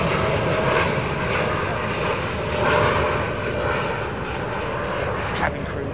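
American Airlines Boeing 737 airliners line up for departure at Chicago O'Hare airport, their engines forming a steady, loud, continuous roar with a voice talking over it.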